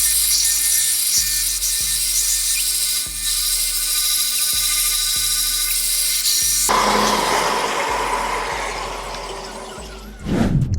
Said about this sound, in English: we'll sand this with the belt sander and then maybe shape the handle a little more